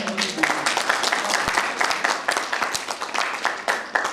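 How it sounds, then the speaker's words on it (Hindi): A seminar audience at a Bada Business IBC event applauds vigorously in a dense, sustained wash of clapping, loud and continuous throughout. "आप अपने लिए एक बार जोरदार तालियां बजाएं"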